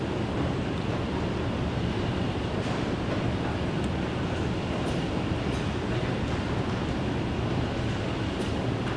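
An Alstom C751A SBS Transit train pulls into a station, a steady broadband rumble and rushing hiss at moderate level throughout, with no voices.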